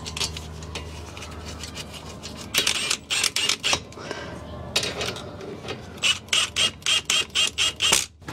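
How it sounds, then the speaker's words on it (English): An impact wrench snugs up the front brake caliper slide pin bolts on a 2015 Honda Crosstour. It gives several short, loud, rattling bursts in two groups, with faint handling noise between them. "I'm just snugging those up with the impact, of course."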